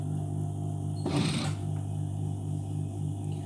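A sewing machine hums steadily and close by while stitching a shirt collar, with a brief louder whirring burst partway through.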